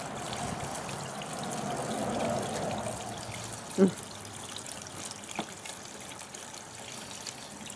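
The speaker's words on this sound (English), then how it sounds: "it's impossible to hold the funnel and pour the gas" Gasoline pouring through a hand-held funnel into a snow plow's fuel tank, a steady liquid trickle and splash over several seconds, with a couple of brief knocks of the funnel or can partway through.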